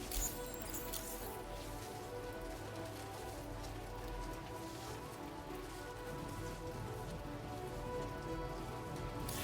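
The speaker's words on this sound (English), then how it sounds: "It is pelting down out there." Heavy rain in the video game Death Stranding 2, a steady patter on surfaces that continues throughout under a low musical drone.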